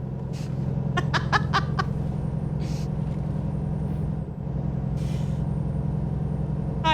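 A heavy truck engine drones steadily in American Truck Simulator while short hissing air-brake bursts sound several times in quick succession, then again later, loud and close with no talking.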